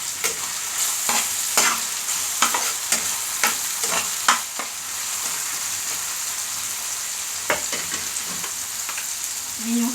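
Eggplant omelette mixture for tortang talong, with pepper being stirred in, sizzling in a pan under a series of sharp scraping and clinking strokes in uneven rhythm, close and fairly loud, with no talk.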